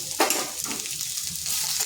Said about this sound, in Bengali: আবার 2 থেকে 3 মিনিট একটু ভেজে নিচ্ছি।